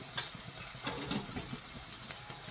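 Onion frying in a pan for shepu bhaji, a dill greens dish, as it is cooked until finely reddened: a continuous close sizzle with soft stirring scrapes and light crackles.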